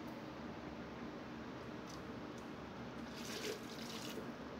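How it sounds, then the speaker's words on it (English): Water pouring into a blender jar holding scooped cooked cauliflower, a steady soft rushing stream heard close up with no talk. "pour the water in."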